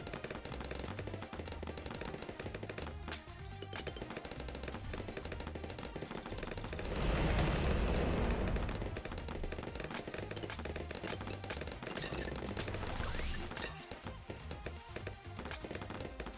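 Rapid gunfire from sniper monkeys in a Bloons tower defense game rattles in dense bursts over looping game music, with a louder swell of effects midway and no talk.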